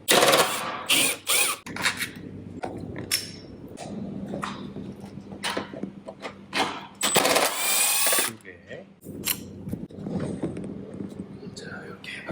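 A power tool spins out the 10mm bolts holding the HEPA filter in a Tesla, in short loud whirring bursts separated by pauses, with someone talking between them.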